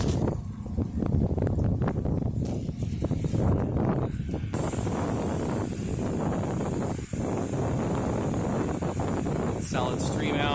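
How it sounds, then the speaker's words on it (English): Steady wind rushing and buffeting across the microphone outdoors during a residential house pressure washing job on a hot day, a continuous broadband roar that fills the whole stretch. "Back to fighting the wind."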